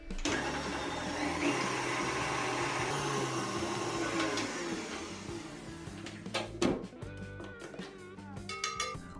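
An electric mixer whips cream with powdered sugar, a teaspoon of cream stabiliser and vanilla extract in a clean bowl, giving a loud, steady whir for several seconds, then stopping into a few clinks and knocks.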